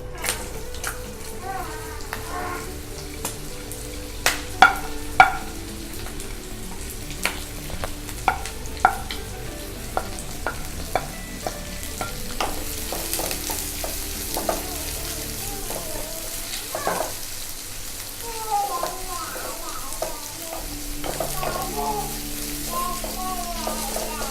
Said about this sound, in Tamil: இப்போது கேரட்டை போட்டு வதக்கிக்கலாம்.